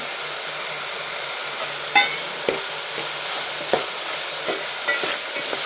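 Masala rice with grated coconut and kasuri methi being sautéed in a pan, a steady soft sizzle broken by a few sharp scraping knocks of the spoon as it is stirred.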